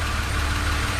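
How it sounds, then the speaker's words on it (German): Oldtimer car engine idling on gas (LPG) in a workshop, a steady, even low rumble held close and constant throughout, with no voices. "Er läuft auf Gas exakt wie auf Benzin."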